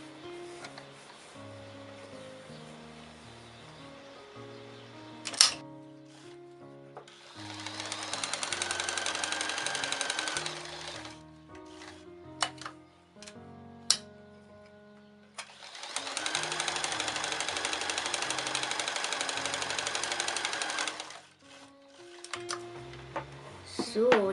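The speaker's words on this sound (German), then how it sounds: "dann haben wir jetzt einmal hier entlang genäht und hier entlang genäht" A sewing machine stitches fabric for a bow in two long, steady runs of rapid mechanical whirring, separated by pauses filled with small clicks and handling sounds over a soft tonal background.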